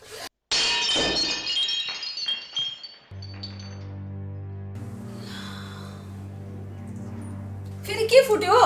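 A glass slips from hands washing dishes and shatters with a sharp, bright crash and tinkling shards, followed by a steady low droning tone and a brief burst of sound near the end.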